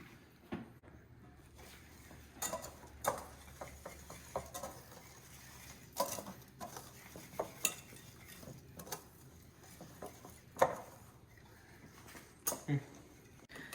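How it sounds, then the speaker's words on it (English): A whisk gently combining sugar and salt in a bowl for strawberry cobbler, light metallic clinks and taps against the bowl in an irregular rhythm, soft and close, with a person talking in between. "And now we're just gonna gently whisk it together until combined."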